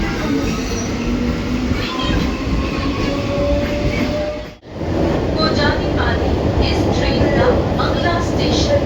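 A train runs steadily in the evening with continuous loud rumbling and rattling of rail carriages, a brief dip midway, and faint squealing wheel tones over the clatter.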